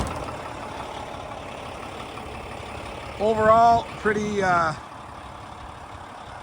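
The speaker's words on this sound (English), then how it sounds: "Looks like mechanically, engine-wise, the engine sounds healthy." A 2009 Volvo VNL780 truck with a D13 engine idles in the background, a low steady rumble, while someone speaks briefly over it near the middle.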